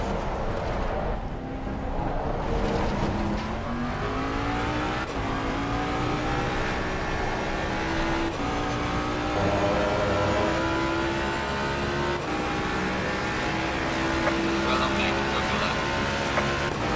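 A race car engine in the Assetto Corsa Competizione racing game on PS5, revving hard with rising and falling pitch as gears shift through a corner. The sound stays steady and loud throughout, with someone commentating over it.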